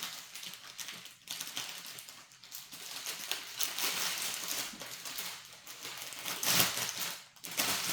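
Paper packaging from an AliExpress parcel rustles and crinkles as it is unpacked nearby, in uneven bursts of crackling and crumpling with brief pauses, no speech over it.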